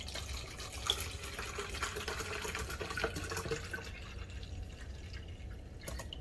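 Water is poured into a container during homemade bleach and lye preparation, a steady, fairly faint splashing trickle with small drips running for several seconds.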